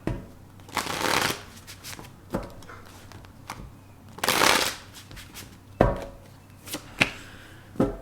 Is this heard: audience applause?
no